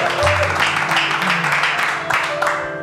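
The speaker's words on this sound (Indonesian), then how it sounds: "Tepuk tangan buat mereka berdua." A studio audience on a talk show claps for two guests, a brief burst of applause mixed with background music and some voices, loud and close for a few seconds before easing off.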